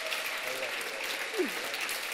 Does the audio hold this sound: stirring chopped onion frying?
no